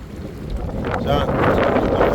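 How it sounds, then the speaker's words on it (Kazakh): Strong wind blowing over floodwater, heard as a loud, gusty rumble buffeting the microphone, with watery swishes and a voice partly buried in the noise. "Жел қатты, соғып жатыр."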